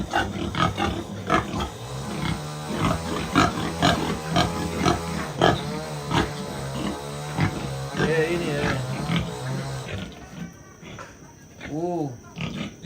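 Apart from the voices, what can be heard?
pigs at a Toraja funeral preparation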